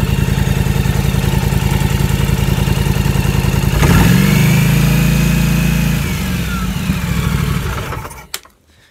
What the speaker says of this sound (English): then you're gonna throttle it a bit and you should see an increase.